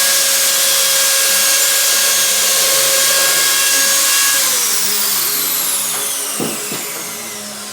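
A power drill drives a long screw into wood for an acoustic bass trap build, its loud, steady motor whine holding before the pitch sags and winds down near the end, followed by a couple of brief knocks.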